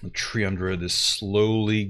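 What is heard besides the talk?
None of the usual background noises is heard.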